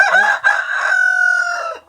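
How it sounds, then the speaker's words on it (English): A rooster crows loudly and close by among chickens at a backyard compost pile, one long full crow lasting under two seconds after a brief opening note. "We have too many roosters in here"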